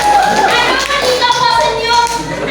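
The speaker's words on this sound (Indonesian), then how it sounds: "tepuk tangan." A group applauds a presenting team in a classroom or training session, with a short burst of hand clapping and taps mixed with voices and a faint melodic tone.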